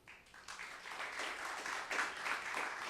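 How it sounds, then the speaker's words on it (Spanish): An audience at a panel on open data and city management applauds a participant; the clapping starts faint, swells within half a second and then holds at a moderate, fairly distant level. "Un aplauso para José."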